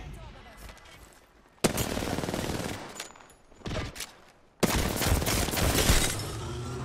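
Automatic gunfire in the video game Apex Legends during a ranked match, dense bursts of rapid shots, loud and close, broken by quieter gaps, with players talking over it.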